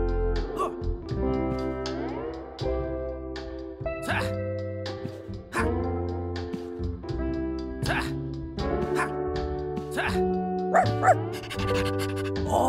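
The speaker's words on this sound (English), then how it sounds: "You're Hart, Arlene's dream dog, aren't you?" A cartoon dog in the video game Stick It to the Man barks, yips and pants in short bursts over steady background music, fairly close, with a voice talking at times.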